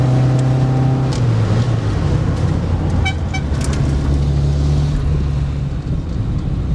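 A Matra Bagheera coupé drives at 80 km/h, heard from inside as a loud, steady rumble of engine and road noise mixed with wind roar, with no talk.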